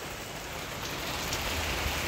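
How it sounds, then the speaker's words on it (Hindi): Heavy monsoon rain falls steadily over a garden, a dense and even hiss of drops pattering on leaves and surfaces throughout. "लेकिन फिर भी बरसात हो रहा है"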